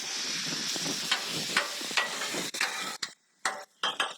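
Chicken and shrimp sear on a flat griddle with a steady, bright sizzle and hiss. Scraping and tapping spatula strokes break in near the end.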